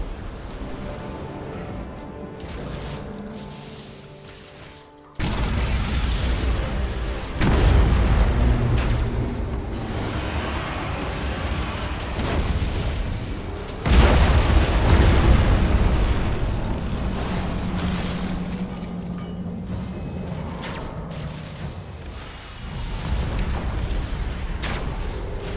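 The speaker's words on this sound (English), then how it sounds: "Hit themselves with their own torpedoes." Heavy torpedo explosions boom and rumble during a space fleet battle in Battlefleet Gothic Armada 2. Several deep blasts rise out of a continuous roar of battle noise.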